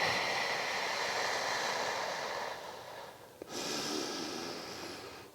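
A long, breathy exhale during a hands-and-knees kegel exercise, steady and close for about two and a half seconds, then a short pause and another soft rush of breath that fades out.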